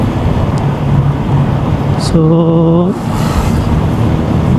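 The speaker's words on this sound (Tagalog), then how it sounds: "Unti ba ang volume ng mga sasakyan?" Steady roadway noise from vehicles passing on Commonwealth Avenue in Quezon City, a continuous near rumble of traffic with a brief tonal horn-like sound midway and a short spoken word over it.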